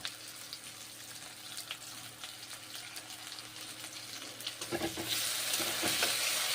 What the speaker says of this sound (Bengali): জল দিয়ে মশলা ভালো করে ভেজে নেবো, মশলা ভালো করে কষে নেবো